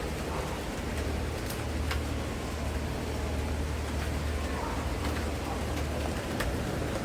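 Rain falls across a foggy open area as a steady, dense hiss with a low rumble underneath, continuous and fairly loud, with a few faint distant chirps and no talking.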